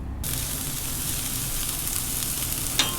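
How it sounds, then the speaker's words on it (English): Steady, loud sizzling of food frying on a hot Blackstone griddle outdoors, continuous hiss with a brief clink near the end. "Hear the sizzle."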